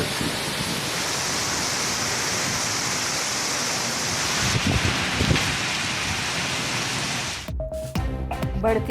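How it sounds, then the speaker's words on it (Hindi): Torrential rain in Islamabad and Rawalpindi, arriving with stormy winds, hisses as a dense, steady roar for most of the stretch, then breaks off into quieter, uneven sounds near the end. "मूसलाधार बारिश से गर्मी का जोर टूट गया।"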